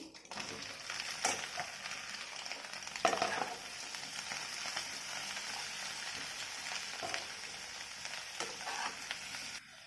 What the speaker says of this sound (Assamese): এতিয়া মই ইয়াত এড কৰিম কাটি থোৱা জিকাখিনি।